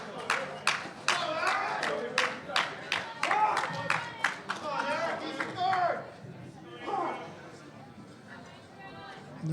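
A crowd claps rhythmically to cheer on a powerlifter before his third attempt at a national powerlifting competition, sharp close claps for several seconds under a commentator's voice, then giving way to talk and chatter.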